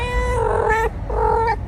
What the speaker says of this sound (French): C'est pas ton chat?